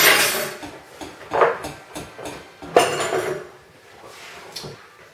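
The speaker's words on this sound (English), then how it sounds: "we're going to put the dishes in the sink." Dishes, pots and utensils are clattered into a home kitchen sink in a series of scattered knocks and clinks, moderately close, with quieter handling sounds between.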